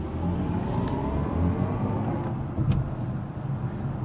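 A BMW i4 M50 electric sedan pulls away hard in a brief burst of acceleration: a loud, steady, close-up whir blended with road rumble that holds throughout, with no voices.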